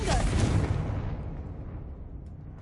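A Confringo fire spell explodes in a Hogwarts video game, a loud, close booming blast that rumbles and slowly fades over a couple of seconds.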